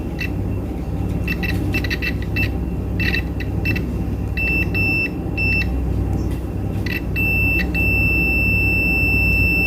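A digital multimeter on continuity test gives a steady high-pitched tone while its probes touch a good wire in a cable, sounding in short bursts and then holding over a constant loud background hum.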